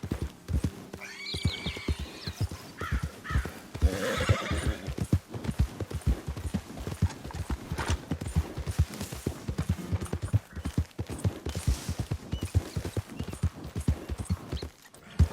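Horse in the Red Dead Redemption 2 video game clip-clops along at a steady pace and neighs clearly early on, with hoofbeats continuing throughout at close range.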